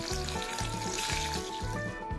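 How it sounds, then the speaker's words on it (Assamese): Cabbage paneer pieces and egg frying in mustard oil in a wok over a low gas flame give a steady close sizzle, partly masked by rhythmic background music. "এইখিনি এতিয়া গেছৰ কম জুইত ভাজি ল'ব লাগিব।"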